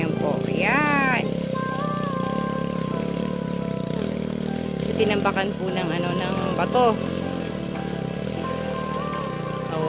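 A motorcycle engine strains over a stony road, a loud continuous drone with rising and falling whines and clattering, while people talk over it.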